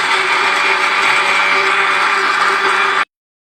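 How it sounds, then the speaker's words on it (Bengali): A blender whirs steadily at high speed while blending a strawberry milkshake with honey, loud and close with a constant motor whine, then cuts off abruptly, leaving silence. "এবারে আমি ভালো করে ব্লেন্ড করে নেব।"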